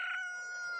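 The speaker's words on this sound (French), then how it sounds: "On a plein de cocottes derrière lui. Regarde, t'es content? T'as plein de poules." A short, sustained chicken cry from The Legend of Zelda: Majora's Mask video game, a single tonal call heard alone and fairly faint.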